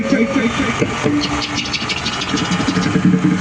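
A motorbike engine idles steadily in the background while people talk loudly over it throughout.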